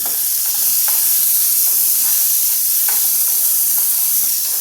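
Tomato chutney with a little salt sautés in a pan, giving a loud, continuous sizzling hiss broken by soft, regular stirring scrapes.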